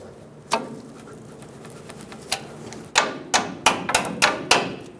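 Sharp metallic taps knock a front brake hose through its bracket on a 2008-2010 Ford F-250 Super Duty, a couple of isolated hits followed by a quicker run of six or seven close, crisp strikes.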